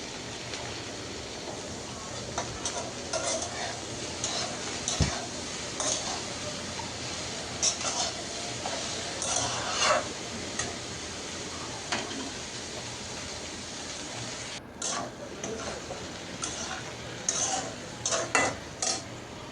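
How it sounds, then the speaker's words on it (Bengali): A utensil stirs vegetable bhaji with sliced green chillies in a pan, producing repeated scraping and clinking strokes over a soft sizzle, close and continuous for about twenty seconds. "এখন নেড়ে চেড়ে দিব। আর এই ভাজিটা বারবারই নাড়াচাড়া করতে হয়"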